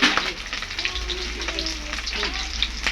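Fish frying in a hot pan, a steady close sizzle and crackle of oil with occasional stirring, while people talk in the background.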